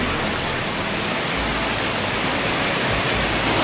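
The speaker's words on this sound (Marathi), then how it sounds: "साईडला नदीचा आवाज येतो आहे" A large river rushing beside a roadside eatery in Konkan gives a constant, loud, hissing roar of flowing water with no pauses and no voices.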